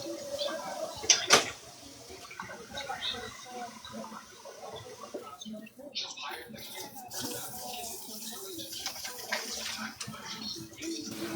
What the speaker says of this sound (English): I like to rinse the things off that are most dirty before I put them around my sink water.